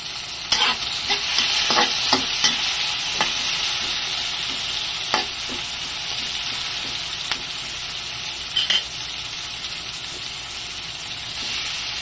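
Garlic, onion and tomato sautéing in a pan give a loud, continuous sizzle, broken by sharp scrapes and clatters of stirring.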